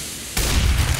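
A grenade bursting in the video game Counter-Strike: Global Offensive, a sudden close boom after a brief quiet lead-in, followed by a loud rumbling roar that holds to the end.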